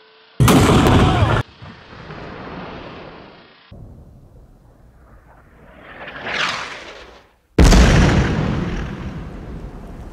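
A WWII Panzer IV vs M4A3E8 Sherman tank cannon fires an armor-piercing round with a loud close blast and rumbling decay, followed by a rising whoosh and a second heavy boom.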